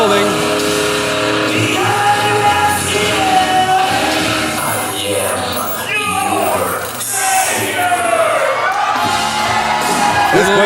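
A capacity wrestling crowd at the Action Building, gathered for a cage match, cheers wildly in a dense, loud, sustained roar of whoops and yells that swells and dips slightly, with voices speaking within it.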